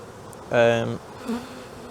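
Honeybees buzz during a spring hive inspection after winter, one brief loud swelling drone lasting about half a second, then a fainter short buzz nearby, with no talking.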